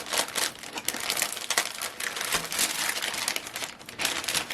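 A plastic bag crinkles and rustles steadily at close range while diamond painting drills are packed into it, with no talking over the handling noise.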